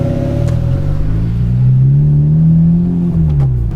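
A Honda Type R's engine revs up from a steady drone to a rising, loud roar that peaks and then eases back down, heard close from inside the car with no talking.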